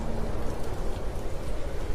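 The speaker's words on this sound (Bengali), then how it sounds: "হঠাৎ ঝেপে বৃষ্টি এলো।" Heavy rain pours down in a dense, steady hiss with no other sounds.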